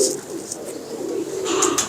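A hand-raised pet pigeon coos softly and close in low, murmuring rolls, with faint higher bird chirps scattered above.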